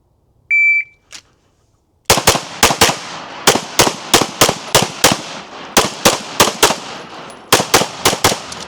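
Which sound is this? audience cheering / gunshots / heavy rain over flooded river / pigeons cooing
gunshots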